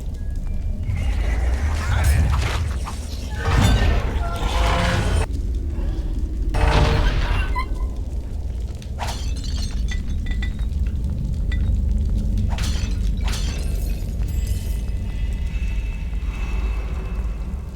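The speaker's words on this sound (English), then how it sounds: "all these jars are gonna get smashed" Jars being smashed in Baldur's Gate: Dark Alliance, a series of loud crashing, clinking breaks scattered over a rumbling background of combat noise.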